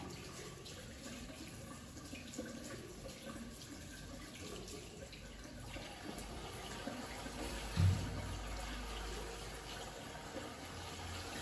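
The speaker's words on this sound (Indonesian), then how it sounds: "mencuci tangan dengan menggunakan sabun di air mengalir" Tap water runs steadily into a sink as hands are washed with soap, a soft continuous flow heard up close with a brief bump partway through and no speech.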